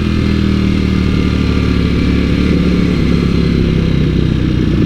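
Italian superbike engine pulling steadily in second gear, a loud, continuous close-up motorcycle drone with a constant mid-range tone and no talking.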